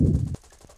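Aircraft cannon fire in War Thunder, from a Hurricane Mark 4 dogfight: a dense, loud burst of rapid shots lasting about a third of a second, then quieter game noise with a faint later pop.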